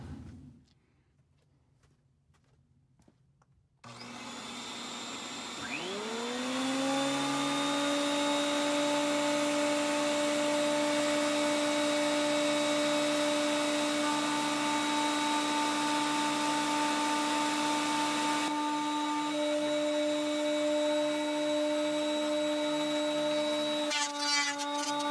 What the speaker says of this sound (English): this was my dad's planer. I've never used it, so I'm going to fire off a test piece